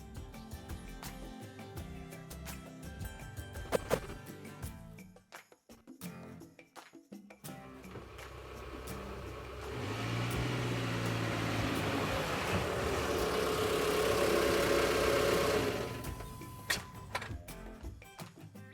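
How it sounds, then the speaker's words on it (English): An old car engine approaches and settles into a steady, rumbling idle, growing louder midway before cutting off near the end; faint ticking earlier. "we'll add the old car arriving sound"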